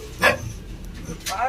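A dog barks twice, first near and sharp, then again about a second later, in an outdoor spot where a trinket snake is being rescued. People talk throughout.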